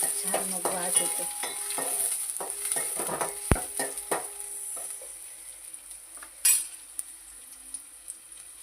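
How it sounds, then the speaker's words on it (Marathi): Garlic and onion sizzle in hot oil in a pan while cooking taro leaf curry, with stirring scrapes and metal utensil clinks over a soft, steady frying hiss, one sharp clink partway through. "फोडणीला लसूण घातली."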